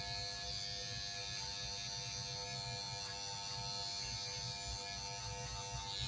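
An electric hair clipper cuts hair during a self-administered high taper haircut, producing a continuous close buzz that holds steady throughout, with no voices.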